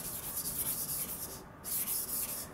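Freehand sharpening of a Yoshikane 180mm petty knife of SKD-11 (D2) steel at 64 HRC: steady, close, gritty scraping strokes of the blade across a whetstone, with a brief pause midway before the rubbing resumes.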